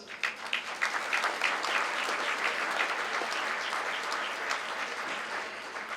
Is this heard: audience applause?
yes